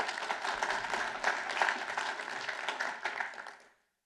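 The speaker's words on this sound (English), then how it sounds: "Let's give you a round of applause." Audience applause at the close of a speaker's session on a tech track about agency space development, a dense steady patter of many hands that holds for about three and a half seconds and then cuts off abruptly.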